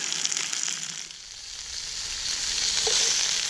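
Steady, loud sizzling of greens wilting in a hot frying pan, continuous crackle with occasional pops, close by and without talk.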